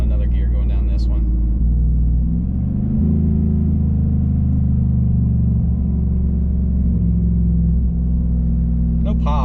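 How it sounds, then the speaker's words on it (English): A car with its exhaust valve open rumbles steadily as it decelerates in gear, a deep, loud droning burble with a slight shift in pitch partway through, while someone talks over it. "So no pops, but it does have that decel sound."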